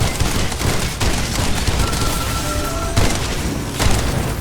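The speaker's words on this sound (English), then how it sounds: "the sound of the pellets hitting metalwork is very nice too" Shotgun blasts in a first-person shooter video game, pellets striking metal with sparks, a loud, dense run of booming shots and impacts packed back to back with no pauses.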